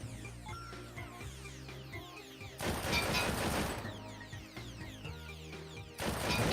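Shooting in the VR game Cactus Cowboy Land, with repeated clicks and clanks, then two loud, dense bursts of fire and crashing noise, fairly close with no talk over it.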